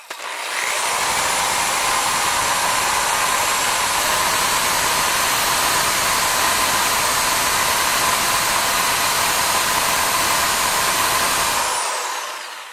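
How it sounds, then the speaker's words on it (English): Electric drill spinning a nylon brush through the six cylinders of a .45/.44 caliber revolver, a loud, steady high-pitched whir that runs continuously for about eleven seconds before winding down, no talking. "nylon brush chucked in an electric drill"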